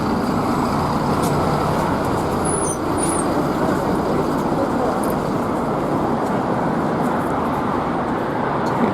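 Busy street traffic at a Moscow bus stop, with a bus among the vehicles, forms a loud, steady roar throughout, with faint chatter of people nearby mixed into the noise.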